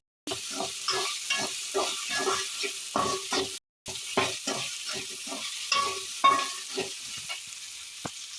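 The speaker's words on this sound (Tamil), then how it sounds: "இப்போ தனியாக நல்லா வதங்கட்டும் தக்காளி" Tomatoes sautéing alone in a pan, stirred in steady rhythmic scraping strokes over a constant close sizzle, with one brief pause partway through.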